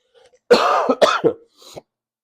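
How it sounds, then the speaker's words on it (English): A few harsh, close coughs and throat-clearing bursts in quick succession, then a softer one, with near silence around them. "excuse me on my coughing"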